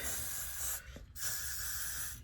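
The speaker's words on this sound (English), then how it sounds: "And you're going to spray the hairline really good." Two long hissing bursts from an aerosol spray can close by, sprayed along a bald cap hairline, separated by a brief pause.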